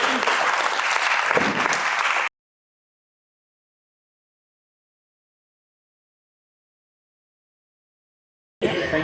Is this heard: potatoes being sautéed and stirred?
no